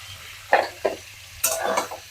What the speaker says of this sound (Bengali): মাছ আর পেঁয়াজ একসাথে আমি কিছুক্ষণ কষিয়ে নেব।